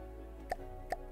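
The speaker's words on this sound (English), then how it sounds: "Extremely loud clicking noise." Two sharp, loud mouse clicks spaced about half a second apart while building in From the Depths, each a crisp isolated tick over a low steady hum.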